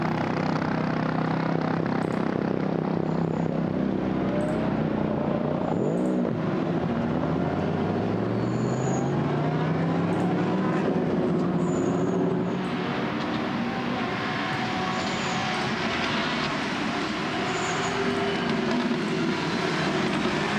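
GT sports race cars run at speed down the fastest section of the wet Misano circuit, their engines making a loud, continuous roar with rising and falling pitch as the cars pass close by.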